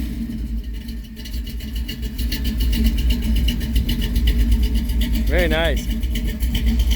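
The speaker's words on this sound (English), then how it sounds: "That's quite a lopey cam. Give it some gas." A car with a lopey camshaft rumbles at an outdoor car show in Mesa, Arizona, its engine running steadily with some revving, loud and close, while people talk over it.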